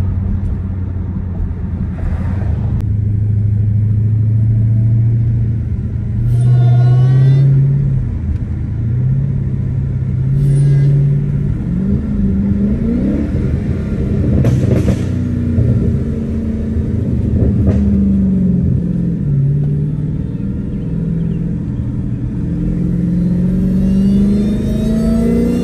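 A 900 HP Dodge Hellcat rumbles through traffic, its deep engine drone rising and falling in several revving surges with a whining edge, close and loud throughout.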